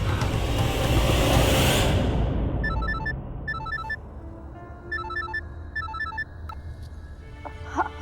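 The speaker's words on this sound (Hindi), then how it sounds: "कब से तुम्हारा फोन ट्राई कर रहा हूँ" A mobile phone ringtone plays in repeated electronic melodic bursts, clear and fairly close, following a loud rush of traffic or vehicle noise that fades out, with a low hum underneath.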